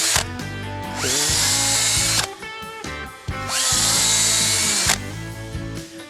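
A power drill whirs loudly in two bursts of a couple of seconds each, its pitch climbing as the screw bites and binds into wood, with brief pauses between.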